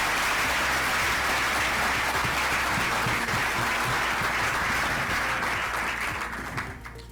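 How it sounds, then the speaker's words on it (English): Sustained audience applause for award winners on stage at the Conexus Indiana Rising 30 ceremony, a dense steady wash of many hands clapping that fades slightly at the end. "let's all give a round of applause for the 5 on stage and Jessica."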